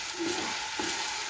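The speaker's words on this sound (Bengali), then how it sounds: "এখন দিলাম আমরা আদা রসুন।" Ginger and garlic sizzle steadily in hot oil with lightly browned onions for pilaf, a loud, continuous close-up frying hiss with faint stirring bumps.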